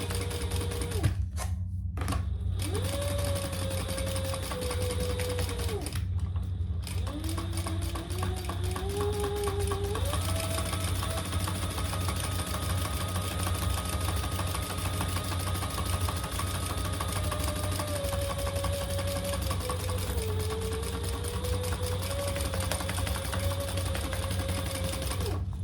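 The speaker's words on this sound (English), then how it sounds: "we're just gonna baste these at an 1/8 inch seam allowance" A sewing machine basting fabric pieces at an eighth-inch seam allowance, running in a steady, continuous whir with short stops and pitch shifts as speed changes, close and dominant.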